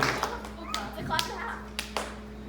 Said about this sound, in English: There's one clap for that.